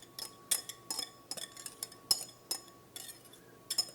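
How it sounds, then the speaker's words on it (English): Scone batter with lemon zest mixed in a bowl, giving a steady run of light clinks and scrapes of a utensil against the bowl, close and fairly quiet, with no talking. "And then just mix it all up until it comes together."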